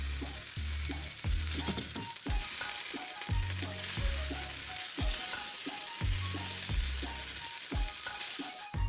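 Butter spread across a hot breakfast pan sizzles steadily with a constant frying hiss, broken by repeated scraping strokes as it is spread around, close and fairly loud throughout.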